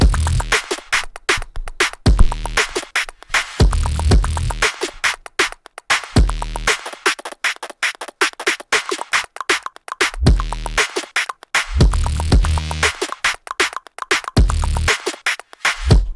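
An EDM remix built around beatbox sounds plays loudly, with punchy drums and layered sidechained bass pumping in a driving repeated rhythm, broken by short gaps between phrases.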